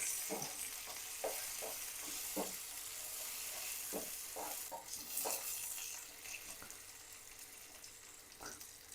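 Shallots and curry leaves fry in oil in a pan for a Kerala prawn curry tempering. A soft, faint sizzle runs throughout, broken by a series of light scraping stirs.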